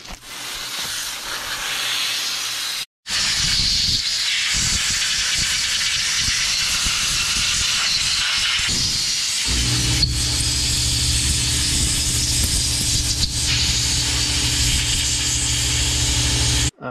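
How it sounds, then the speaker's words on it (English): Carb choke cleaner sprays hard into the small passageways of a Holley 4160 carburetor metering block, a loud, close, continuous hiss that breaks off briefly, then resumes with a lower rushing tone. "we've blown out every single small hole on the metering block"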